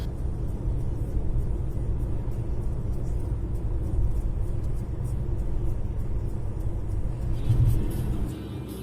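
A Nissan Leaf 30 kWh electric car drives on the road from Bern, heard from inside as a constant low tyre and road rumble with a faint motor whir, steady and moderately loud, with no talk.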